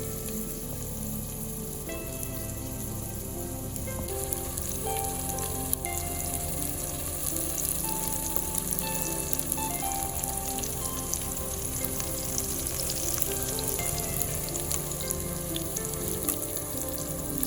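Salmon sears in a pan with a continuous, fine crackling sizzle that holds steady throughout, giving a bright, rain-like hiss with scattered pops and no talking.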